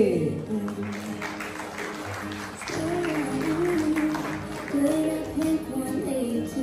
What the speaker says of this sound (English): can you please clap your hands for Ate Ting Ting